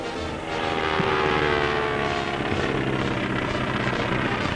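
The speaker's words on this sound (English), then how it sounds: "The plane swoops in at 130 miles an hour." Propeller airplane swooping in at about 130 miles an hour for an in-flight rescue pickup, a loud steady droning engine roar that swells and holds, heard alone.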